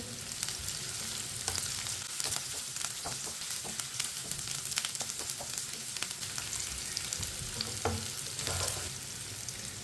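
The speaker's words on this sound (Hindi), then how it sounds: "एक बारीक कटा हुआ प्याज, प्याज को मिक्स कर लेंगे।" Finely chopped onion fries in hot oil and is stirred, a steady close sizzle with scraping stirring strokes throughout and no talking.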